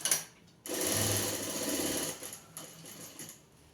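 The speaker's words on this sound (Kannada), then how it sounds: "ಇದು ನನಗೆ ಗೊತ್ತಿರೋ ಮೆಥಡಲ್ಲಿ ನಾನು ಈ ಥರ ಸ್ಟಿಚ್ ಮಾಡ್ತೀನಿ." An electric sewing machine stitches an embroidered blouse in a tailoring shop, a steady close whirring run of about a second and a half after a brief start, then slowing and fading.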